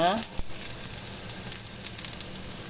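Shallots hit a small amount of hot oil for a stir-fry, bursting into a loud, close, continuous sizzle that carries on steadily throughout.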